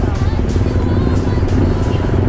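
Several motorcycles, including a Dafra Next, ride along a Brazilian highway in a group pilgrimage to Aparecida, giving a steady, close engine drone mixed with wind and road rumble throughout.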